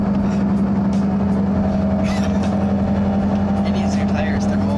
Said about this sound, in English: I'm sure you can notice by what you're hearing right now what I mean by the tire noise